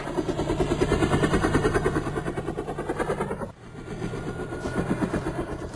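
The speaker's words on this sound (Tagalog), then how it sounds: "Bibiyak na ang helikopter." A helicopter departing, its steady rhythmic rotor chop loud and continuous, briefly cut and then resuming slightly fainter as it lifts away.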